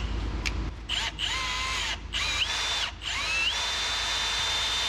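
A power drill whines at high speed in short bursts and then a longer steady run, spinning the oil pump to prime the engine of a long-abandoned barn-find Dodge Charger Daytona, loud and close.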